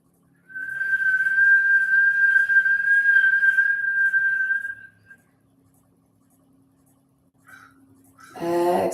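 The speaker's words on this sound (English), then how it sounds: "we're going to inhale through the whistle shape" Steady high whistle made by drawing breath in through pursed lips during a kundalini breathing exercise, a single sustained tone lasting about four seconds, then quiet, with a brief rustle and a louder breathy sound at the end.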